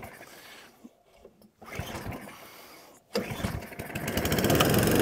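An Atco Balmoral cylinder lawnmower on choke and full throttle, cranking with a couple of pulls before the engine catches and rises into a loud, rough, steady run close by.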